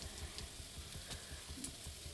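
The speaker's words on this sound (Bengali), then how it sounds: "এখন আমি ফোড়নে দিয়ে দেব গোটা জিরে" Whole cumin seeds sizzle in hot oil as a faint, steady hiss with small crackles throughout.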